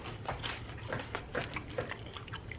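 Crunchy Christmas Rice Krispie treats being bitten and chewed up close, a run of moist, crackly munching bursts repeating over a steady low background hum, with no talking.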